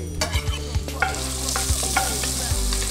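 Anchovies and garlic frying in a hot pan, a loud continuous sizzle with repeated stirring scrapes, close up.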